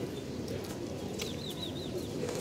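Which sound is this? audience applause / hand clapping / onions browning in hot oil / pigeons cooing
pigeons cooing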